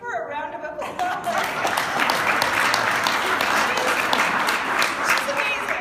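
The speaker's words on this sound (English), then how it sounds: "Give her a round of applause." Applause at a developer summit, a crowd's clapping swelling in after a brief voice at the start and continuing steadily at moderate loudness, with faint chuckles and murmurs mixed in.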